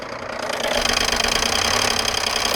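BMW engine with its oil drained idling at tick over, a steady close mechanical drone with a rough knocking rattle running underneath.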